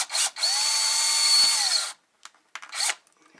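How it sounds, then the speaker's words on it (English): A power drill bores out a rivet while a Lutron dimmer and fan control is taken apart. It gives one long, loud, high whine, followed by a few short bursts and a stutter as the bit breaks through. "just drill until the top of the rivet pops off"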